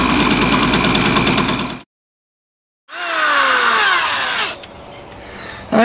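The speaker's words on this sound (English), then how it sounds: "Let's start drilling." Power drill boring into metal during torsion bar repair on a rotten 1956 VW Beetle, close and loud: a steady whining run, a second of silence, then another burst with the pitch sliding as the bit bites.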